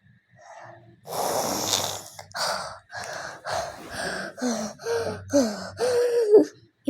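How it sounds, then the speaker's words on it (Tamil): A person breathing in an exaggerated, heavy way, a run of loud, rasping, gasping breaths and snorts in quick rhythm, close up and alone, with some wheezy, voiced pitch creeping in toward the end. "இந்த அளவுக்கு கேவலமாக மூச்சு விடுறேன் பார்த்தீங்களா?"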